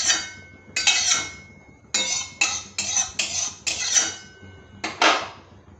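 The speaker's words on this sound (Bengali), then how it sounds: "কড়াইটা বসিয়ে দিচ্ছি।" Metal wok set down on a kitchen stove, a series of sharp clanks and scrapes of cookware in close, loud bursts with quiet pauses between, no talking.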